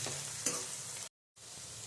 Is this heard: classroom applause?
no